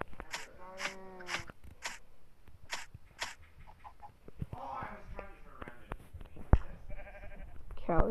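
Sheep bleat in the blocky sandbox game Minecraft during a one-block sky block challenge, several short nasal calls at the start, followed by clicks, rustles and a person talking.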